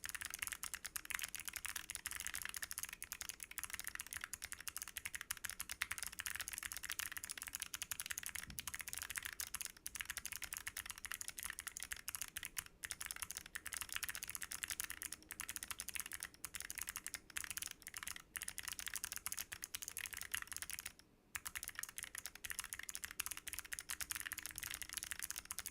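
Continuous clicky typing on a small mechanical keyboard fitted with Big Lucky Clicky switches, a dense steady patter of sharp key clicks at close range, with only brief pauses and no talk over it.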